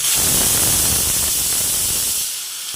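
Two bay leaves hit hot oil in a kadai, letting out a loud, close, steady hiss of sizzling that eases off slightly near the end.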